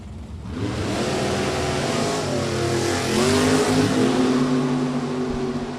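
Drag racing cars, a Chevy 2 and a Corvette, rev loudly at an NHRA Lucas Oil series event at Maple Grove Raceway, engines swelling and surging into a roaring launch, close and continuous throughout.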